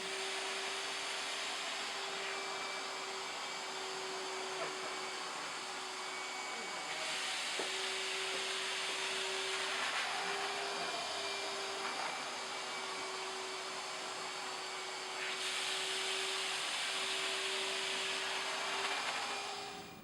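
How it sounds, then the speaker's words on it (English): A wet-dry shop vacuum sucks up stone floor polishing slurry after a 3M Trizact polishing pass, giving a steady, loud motor whine with an airy rush, with short bursts of harsher slurping intake as the nozzle moves across the wet floor. "we're going to use the wet dry vac to pick up all the slurry"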